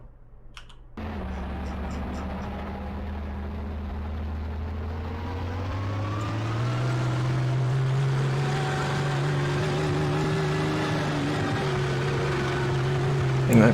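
A PT boat's engine at max throttle in Garry's Mod: a loud, steady droning roar that climbs slowly in pitch and holds, with faint clicks at the start.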